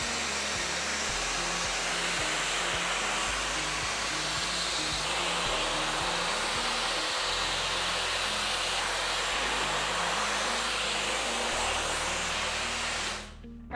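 A Dyson Supersonic hair dryer with a wide-tooth comb attachment runs continuously and loudly up close, a steady breathy whoosh with faint shifts as it moves through the hair, cutting off right at the end.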